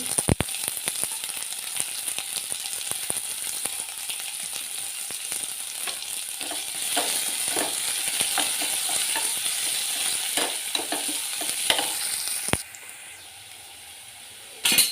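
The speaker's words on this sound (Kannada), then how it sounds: "ಎಲ್ಲ ಈರುಳ್ಳಿನ ಚೆನ್ನಾಗಿ ಫ್ರೈ ಆಗಬೇಕು" Onions frying in hot oil produce a continuous, dense crackling sizzle with scattered sharp pops, fairly close and steady, briefly dropping lower near the end before flaring again, with no talking.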